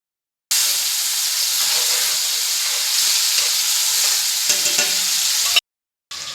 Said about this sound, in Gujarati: આ તેલ ગરમ થઈ જાય ને એટલે આપણે છે ને હવે આ જીરું નાખી દેવાનું